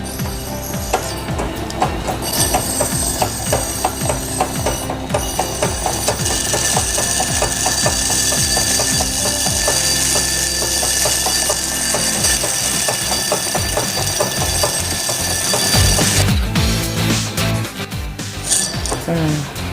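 An antique sewing machine runs steadily while thread is wound onto its bobbin, giving a continuous close whirring with fast mechanical ticking throughout and no talking.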